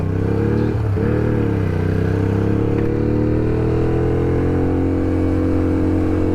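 A scrambler motorcycle engine hums up close while riding, its pitch shifting briefly as the throttle changes, then holding a smooth, steady tone.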